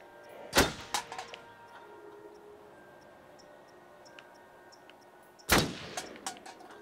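Two loud gunshots in the horror video game Until Dawn, one near the start and one about five seconds later, each a sharp crack with a short decay over a quiet ambient background.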